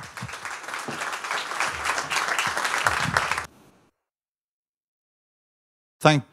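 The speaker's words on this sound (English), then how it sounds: "So please give a warm round of applause to Jan." A crowd applauds steadily for several seconds, then it cuts to silence; a brief voice sounds at the very end.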